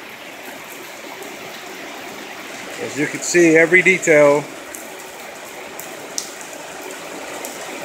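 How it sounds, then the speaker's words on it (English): Steady rain pours during a rainstorm, a dense, even hiss throughout, with someone briefly talking in the middle. "As you can hear everything from my voice to every single drop is coming out of the sky."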